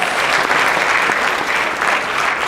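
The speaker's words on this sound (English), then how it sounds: "let's give this panel a round of applause" A dense wash of audience applause fills the room for a panel at a college planning night, loud and continuous with no talking over it.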